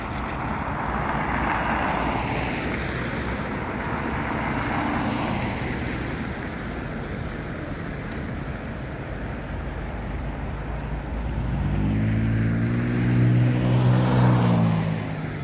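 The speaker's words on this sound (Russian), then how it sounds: "610 автобус." A city bus on route 610 passes by, its engine and tyres rising into a loud, near rumble toward the end over steady street traffic noise.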